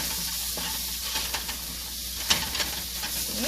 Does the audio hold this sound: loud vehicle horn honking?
no